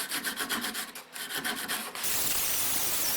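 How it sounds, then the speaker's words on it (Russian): Wood being sanded by hand with a small piece of sandpaper in a tight spot, a close rhythmic scratchy rubbing in quick strokes that shifts to a steadier, denser rasp partway through. "в труднодоступных местах шлифую кусочком наждачной бумаги."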